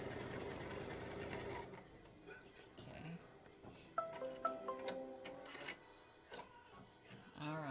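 A sewing machine runs a fast, steady tack-down stitch on fabric, then stops, leaving faint clicks and beeps from the machine at low level.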